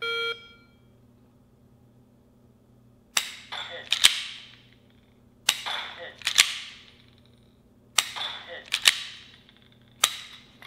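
Mantis laser training pistol dry-firing at multiple targets: sharp mechanical clicks come in pairs and clusters, each followed by a brief electronic ring, spaced a second or two apart over a faint background hum.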